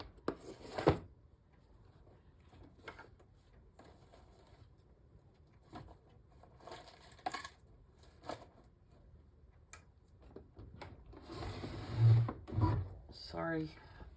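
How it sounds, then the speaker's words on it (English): Drawers are pulled open and pushed shut, with wooden scrapes, sliding rubs and thuds spread over several seconds. Rummaging grows louder toward the end, and a person speaks at times. "opening drawers."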